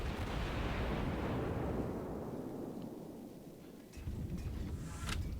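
Warship guns booming in a World of Warships naval battle: a heavy blast that rolls off into a long rumbling decay, then fresh sharp reports and crackles near the end.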